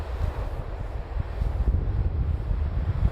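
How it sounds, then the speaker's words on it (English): Steady low wind rumble buffets the microphone throughout during the polar night on Svalbard, with gusty bumps in the low end and no voices. "right now it's a bit windy."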